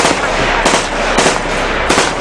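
Firecrackers pop outdoors in the morning in the Philippines, with several sharp bursts standing out from a continuous loud crackling and hiss, fairly close.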